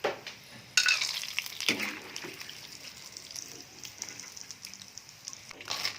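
Rambutan seeds frying in hot oil until golden brown, a steady soft sizzle under close stirring and scraping, with a sharper burst of crackle early on.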